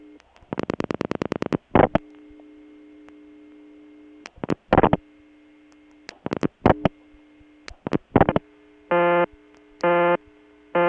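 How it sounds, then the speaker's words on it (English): Repeated short electronic tones from a Bell step-by-step telephone exchange in Kent, Connecticut: a rapid burst of beeps, scattered bursts, then steady evenly spaced busy-signal pulses over a constant low hum, no talking. "Let's see if we can get the Sharon busy signal next."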